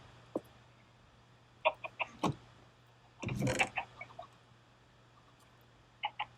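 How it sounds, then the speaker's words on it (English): Minecraft chickens give a few short, scattered clucks, some in quick pairs, with a longer cluster of clucks near the middle over quiet game ambience. "Come here, chickens."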